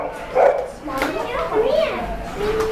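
Dogs bark and yip inside a crowded puppy cafe in Korea, with excited voices and children's chatter around them and busy indoor noise throughout.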